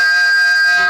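A freshly polished bell rings out with a bright, sustained metallic tone, several clear overtones lingering evenly for about a second, loud and close.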